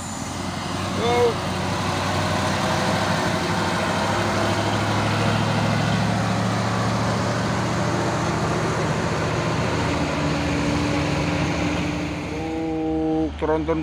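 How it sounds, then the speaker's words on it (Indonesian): An orange Fuso 6x2 tronton truck rumbles along close by in a loud, steady low engine drone, with a rising whine near the end as the engine note shifts. "Tronton Fuso Oren 6x2 ini ya."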